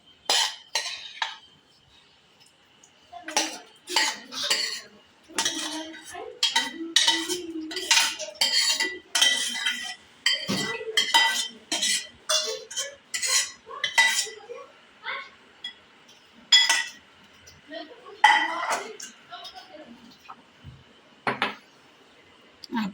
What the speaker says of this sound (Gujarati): તો આપણે હવે આમાં બાઉલમાં લઈ લઈશું.